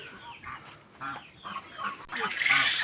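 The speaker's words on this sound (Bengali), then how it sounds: "এর ভিতরে চীনা হাঁস আছে।" Chinese ducks in a shed on a rural farm give off a steady run of quacks and calls at moderate distance. The calls are busy and overlapping and swell louder toward the end, with no voices heard.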